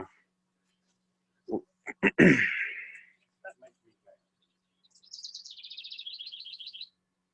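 Wild birds chirping near a garden where someone is digging in the dirt, with a few sharp clicks and scraping knocks first, then a quick rapid trill of bird calls, moderately close and alone.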